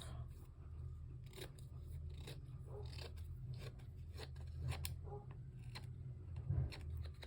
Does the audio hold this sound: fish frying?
no